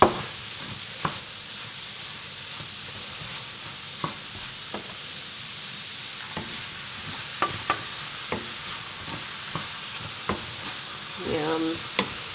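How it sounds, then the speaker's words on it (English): Onion and garlic fry in a pan with a soft, steady sizzle, close up, broken by regular taps and scrapes of a utensil stirring, with no speech. "fry up a little bit of onion and garlic"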